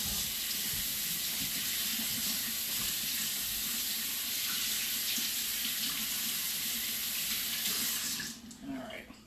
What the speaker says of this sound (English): I'm going to rinse my hand off really quick.